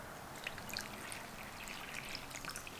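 Two cups of measured water pour steadily into a bowl of chapati dough mix with oil, a continuous close trickle and splash under faint kitchen room noise.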